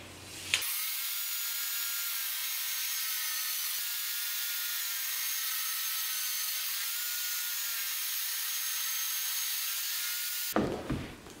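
A blade cuts through the side board of a wooden toy box in one continuous, steady, hissing rasp lasting about ten seconds, close and even in level, with no speech.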